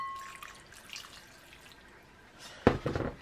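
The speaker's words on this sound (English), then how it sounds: "once your pickle juice is all ready, your homemade pickle juice, you just pour it gently over your vegetables" Homemade pickle juice is poured gently over vegetables in a jar. It starts as a soft trickle and gives way to a brief, louder splashing pour near the end, close by.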